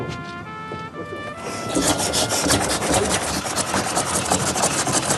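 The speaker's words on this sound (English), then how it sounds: "the team are keen to see if the Ivel will power an old Edwardian kibbler, a device used to grind down cereal crops into animal feed" An Ivel tractor drives an old Edwardian kibbler grinding cereal crops into animal feed: a quieter mechanical start quickly builds into a loud, steady, dense grinding rasp over an engine's continuous churn.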